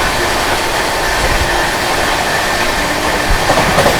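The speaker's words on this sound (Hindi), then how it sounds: "अपनी सीआर राजधानी एक्सप्रेस ओवरटेक करने जा रहे हैं जम्मू तवी से चलकर पुणे की ओर जाने वाली झेलम एक्सप्रेस को ओवरटेक कर रहे हैं" The CR Rajdhani Express 22222 overtakes the Jhelum Express, bound from Jammu Tawi to Pune, at high speed. A loud, unbroken roar of rail travel fills the whole stretch with faint wheel rumble and no voices.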